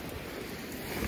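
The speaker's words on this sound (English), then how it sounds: "It's a little windy up here" Wind gusts buffet the microphone on an exposed spot along the Appalachian Trail in the Smokies, a brief, loud, rough rush with no talking.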